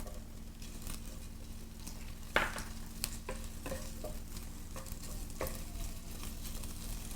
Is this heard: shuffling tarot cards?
no